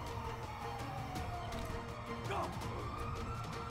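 Ambulance and police car sirens wail at a steady pitch in GTA 5, a blended drone with a short upward sweep, set against constant background noise.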